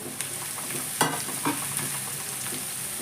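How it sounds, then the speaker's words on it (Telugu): Green chillies and onions fry in a pan for crab curry, a constant close sizzle broken by a few sharp scrapes and clacks of a spoon stirring against the pan. "ఇలా కలిపేసి ఇలా మూత పెట్టేసి ఉల్లిపాయలు దోరగా వేగేదాకా వేపేసుకోవాలి"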